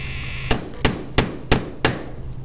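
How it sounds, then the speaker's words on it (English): A hammer strikes a cleat stapler to drive staples, giving five sharp evenly spaced metallic blows about a third of a second apart, close and loud over a low steady hum. "I'm using a cleat stapler here,"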